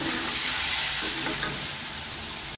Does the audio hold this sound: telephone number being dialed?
no